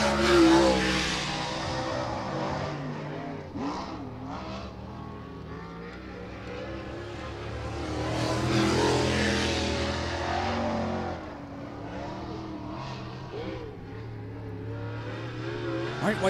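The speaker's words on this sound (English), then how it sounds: "White flag in the air, one lap to go for Mark Collier" Late model race cars running laps at I-96 Speedway during qualifying, a continuous loud engine roar that swells and fades as cars pass, heard alone.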